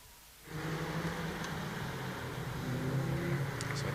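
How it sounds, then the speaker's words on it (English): Caterham race cars head out onto the circuit at a BRSCC race weekend, engines droning in suddenly after a quiet half-second and then holding a steady, moderately distant hum that swells slightly toward the end. "Cars now have already made their way out onto the circuit"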